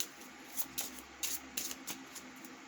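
Playing cards are drawn from a deck, giving a string of quick, close, crisp flicks and riffling snaps over a few seconds, with no talk.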